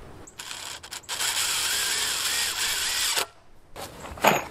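A drill partially driving lag screws on a porch build, a steady whirring run of about two seconds with brief starts before it and a short burst at the end, close and fairly loud, no talk.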